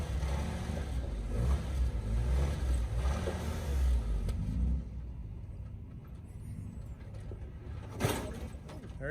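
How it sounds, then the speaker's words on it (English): A Jeep engine is held at high revs to keep it from stalling while creeping down a slope on the Shedder Trail in Logandale, Nevada. A loud, steady, close rumble drops to a quieter drone about halfway through. "I had to kind of high rev it a little bit to keep it running"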